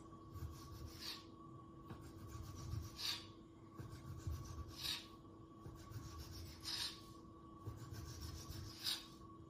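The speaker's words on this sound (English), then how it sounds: "Now we can slice it into strips." A knife cuts through folded homemade pasta dough on a board, five soft rhythmic slicing rasps about two seconds apart, close and quiet with no talking.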